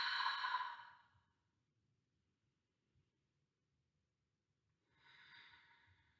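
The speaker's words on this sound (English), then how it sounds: "Hold and breathe." Deep breathing during a leg stretch, a long breathy exhale followed after a quiet pause by another slower breath, close and soft, no talking.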